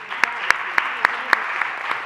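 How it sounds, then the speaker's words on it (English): Steady applause from an audience at a school advisory board meeting honouring retiring staff, a dense wash of clapping with a few sharp louder claps standing out at regular intervals. "If we can give them all a round of applause."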